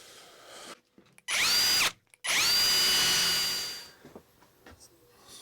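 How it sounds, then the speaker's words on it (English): A loud cordless drill whines in two bursts, a short one and then a longer, sustained run that winds down, in a quiet workshop. "Great drill, but probably the noisiest cordless drill on the market."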